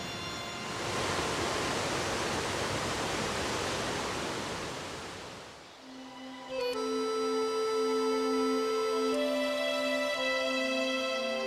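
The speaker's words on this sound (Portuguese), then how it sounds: "uma impressionante queda d'água bem no limite da área do parque. A Cachoeira 7 de Setembro." A steady, loud rushing roar of water from Cachoeira 7 de Setembro, a waterfall at the edge of Boa Nova National Park, lasts about five seconds, then drops out and gives way to sustained musical tones.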